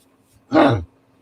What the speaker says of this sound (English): I was just clearing my throat there